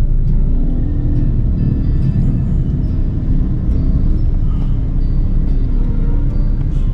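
Motorcycle riding through city traffic with vehicles squeezing past, a loud, steady engine rumble and road noise continuing throughout with no pauses.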